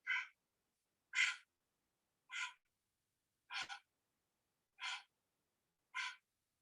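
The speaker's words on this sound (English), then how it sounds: "It's like Kapalabhati breathing." Six forceful Kapalabhati breaths expelled sharply through the nose, evenly spaced about a second apart, close and clear with silence between each puff.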